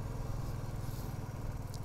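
A steady, rumbling motorcycle engine drones continuously at close range, even and unbroken, cruising along a mountain road between Losar and Kaza.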